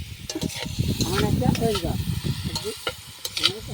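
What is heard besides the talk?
potatoes frying in a pan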